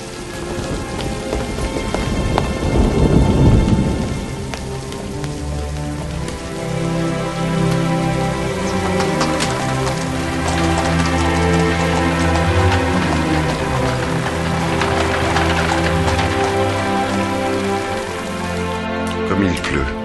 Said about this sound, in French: Comme il pleut.